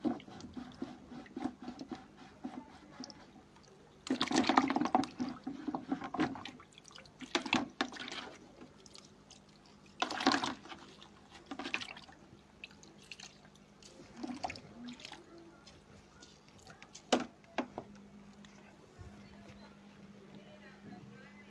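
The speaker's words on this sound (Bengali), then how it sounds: "ব্রাশটা ধুয়ে নিচ্ছি।" A paintbrush is rinsed in water during fabric hand painting, giving intermittent close splashing and dripping bursts with a steady low hum in the background.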